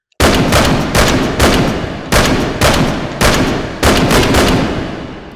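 AKM rifle firing 7.62x54R rounds in the VR shooter H3VR, five loud, heavy single shots spaced about a second apart, each with a long decaying echo tail, close and alone.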